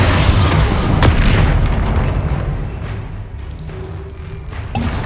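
Bombarda spell explosions in Hogwarts Legacy during a troll fight: dense, loud booming blasts overlapping into a continuous roar of detonations and crashing debris, with sharp bursts near the start and end.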